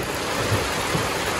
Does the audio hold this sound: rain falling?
yes